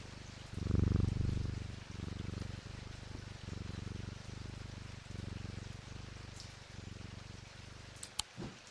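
A cat purrs softly and continuously in a video game, a low steady rumble with faint rain-like patter around it and a few small clicks near the end.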